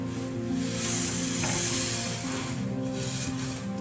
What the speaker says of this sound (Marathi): आता आपण याच्यात तीळ टाकून घेऊया